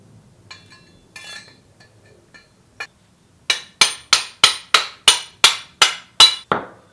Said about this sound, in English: So I'm just going to start tapping down those little tabs